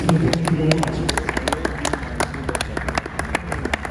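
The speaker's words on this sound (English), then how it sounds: "Please keep clapping for this legend and this great dancing." A crowd at a Nigerian boxing event claps steadily, with dense, continuous applause close by under a voice speaking over it.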